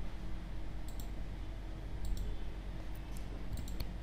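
A computer mouse clicks in brief, sharp pairs against a steady low background hum on a Windows computer, with a few clicks spread across the stretch and no voices.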